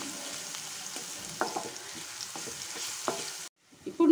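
Ginger sizzles and fries in a pan of oil as the base for a cabbage and chana dal curry, a steady close crackle with occasional stirring scrapes, cutting off abruptly near the end.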